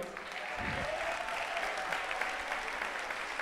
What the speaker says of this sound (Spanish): Un aplauso para los hermanos Rosario